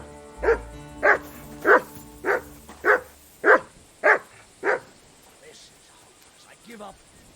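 Dog barking in the video game Kingdom Come Deliverance II: eight evenly spaced, loud barks in a steady rhythm, followed by a fainter whimpering yelp near the end.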